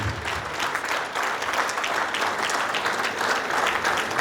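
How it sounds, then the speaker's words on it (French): Guests at a 70th birthday celebration break into sustained applause for the honoree's career, with an even wash of many hands clapping that continues without pause and without voices. "Est-ce qu'on peut applaudir pour ce cursus"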